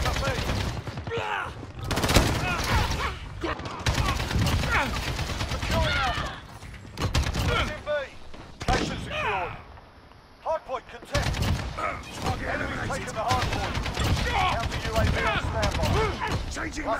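Rapid bursts of automatic gunfire from Call of Duty Modern Warfare crack out loud and close in repeated volleys, broken by short gaps, with players' voices talking over the shooting.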